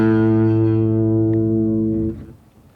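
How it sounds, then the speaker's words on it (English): Bass guitar through an MXR bass overdrive pedal holds one sustained, gritty note loud and close, then fades as it is damped near the end. "the MXR bass overdrive on, just for a little bit of extra grind"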